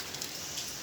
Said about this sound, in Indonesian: kurang lebih seperti ini hujannya cukup lebat, ini mengguyur kebun pekarangan